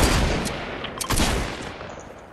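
A sniper rifle shot in a video game rings out loud and close, followed by further sharp gunfire cracks and a long booming tail that fades away.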